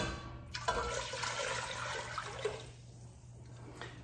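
Water pours steadily into a pot for pickled beets, a broad rushing splash that runs for about two and a half seconds, then fades off.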